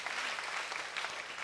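Congregation applauding in praise of God during a Korean church sermon, a dense, steady wash of many hands clapping throughout, with no voices over it.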